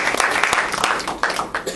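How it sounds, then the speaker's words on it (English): Brief burst of audience clapping at a talk, close and moderately loud, with a voice over it. "give her a round of applause."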